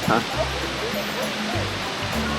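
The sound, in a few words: Shiraito Falls waterfall in Karuizawa, Japan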